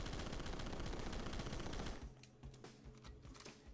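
Rapid automatic gunfire in the Rocketbirds 2: Evolution video game, a dense continuous burst that cuts off about halfway, followed by scattered quieter shots and clatter.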